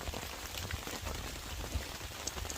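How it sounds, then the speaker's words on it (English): Rain patters steadily on a camping tarp during winter hammock camping, a soft, dense drumming of drops heard from right underneath, quiet and even throughout. "You hear the rain hitting the tarp?"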